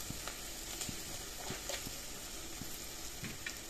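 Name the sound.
spices sizzling in a pan while being stirred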